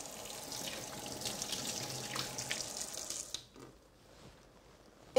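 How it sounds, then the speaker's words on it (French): Hot water runs from a kitchen tap over the base of a terrine mould, a steady splashing stream that cuts off abruptly partway through, leaving near silence. "je passe le fond de ma terrine sous l'eau chaude"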